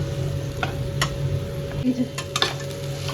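Potatoes, onions, peanuts and green chillies fry in a pan, with a steady close sizzle broken by several scraping stirs of a spatula.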